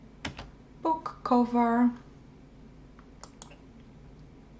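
Scattered clicks of a computer keyboard in a quiet room as someone designs a book cover: a few faint, separate taps spread across the moment, with a short spoken word among them.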